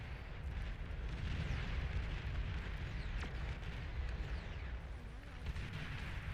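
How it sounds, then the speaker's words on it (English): A commander unit detonating in the strategy game Beyond All Reason, a loud, sustained, rumbling explosion roar with crackling bursts that holds steady for several seconds without fading. "I am going to detonate my commander"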